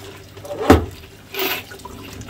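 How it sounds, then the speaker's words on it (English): Water splashes and trickles while wine is rinsed out of small communion cups during cleanup, two short bursts of running water close by, with no voices. "And then she's going to rinse off the remaining wine."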